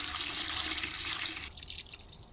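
Water poured into a container for making comfrey tea, a loud steady gushing stream that stops abruptly, leaving faint drips and splashes, heard alone.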